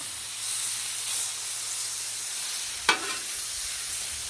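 Stir fry of cauliflower rice with garlic and seasonings sizzles on a very hot griddle, a soft steady hiss with one brief sharp scrape or clatter partway through.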